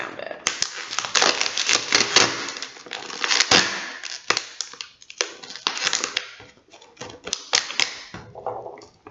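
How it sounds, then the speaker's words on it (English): Tape is pulled and wrapped around a recycled-material water raft, giving close, loud bursts of ripping and crinkling that come in uneven spurts with short pauses between. "we're just going to go ahead and wrap our tape"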